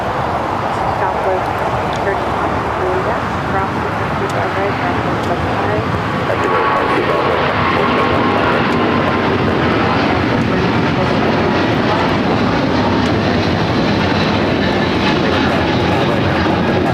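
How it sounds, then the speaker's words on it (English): A United Boeing 777-200ER in Star Alliance livery takes off from LAX bound for Newark, the jet engines building to a sustained loud roar that dominates, with voices talking beneath. "Taking off to Newark on the 777-200ER in the Star Alliance livery."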